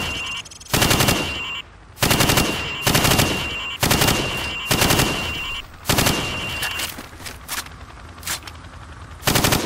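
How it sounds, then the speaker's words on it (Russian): Rifle fire at pop-up targets in the 2007 Call of Duty Modern Warfare game: loud, close bursts of rapid automatic shots in a repeating rhythm, separated by brief pauses and ending in scattered single shots. "Пули пробивают дерево, гипс, листовой металл и другие непрочные материалы."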